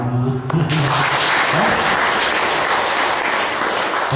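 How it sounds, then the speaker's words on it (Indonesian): An audience applauds at a spiritual talk, dense steady clapping rising after a brief lead-in and holding loud and continuous throughout. "Tepuk tangan."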